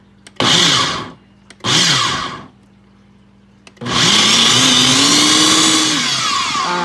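A Ninja blender whirs through chocolate pudding ingredients in two short loud pulses, then runs in one long steady roar, its pitch shifting slightly as the mixture thickens; close and loud, with no talking.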